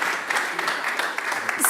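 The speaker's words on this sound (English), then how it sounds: "Could we please give another round of applause?" Audience applause at the close of a lecture event, a steady spread of clapping that fills the whole moment, fairly loud and continuous, with no speech over it.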